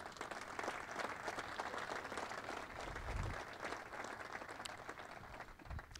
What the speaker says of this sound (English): But a round of applause to those 3 legends